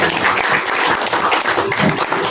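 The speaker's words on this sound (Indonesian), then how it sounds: "Mana tepuk tanganmu buat Bapak Yahweh." A church audience applauds a pastor's call, steady dense clapping from many hands filling the room, loud and continuous throughout with no break.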